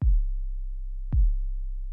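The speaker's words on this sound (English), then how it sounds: "So the normal kick would sound like this." Two deep, booming kick drum hits about a second apart, each with a punchy attack and a long low decay, with nothing else playing.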